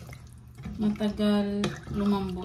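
Water pours into a cooking pot with a rising, ringing tone, in a couple of short bursts while a person talks over it.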